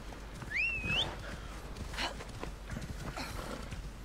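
A horse in the video game Assassin's Creed Odyssey gives a single rising whinny near the start, followed by faint hoof and ambient game sounds.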